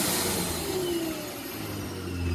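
A supercharged V6 with a quiet Ripp exhaust idles up close, its blower giving a steady whine above a smooth, low engine hum.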